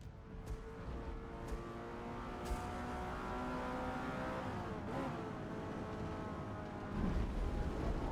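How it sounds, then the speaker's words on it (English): A car engine in the racing video game Forza drones steadily at high revs with rising and falling pitch, like a race car, ending in a rougher surge. "It sounds more like a race car."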